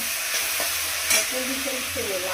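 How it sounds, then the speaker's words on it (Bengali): Water spinach frying and being stirred in a pan, a steady close sizzle with soft scraping strokes and one brief louder clatter midway. "এখানে হচ্ছে কলমি শাক ভাজা"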